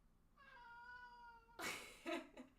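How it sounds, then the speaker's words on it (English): A house cat lets out one long, clear meow, followed by a few brief, louder rustles and bumps close by in a quiet room. "That wasn't Glitter, that was Hero the cat"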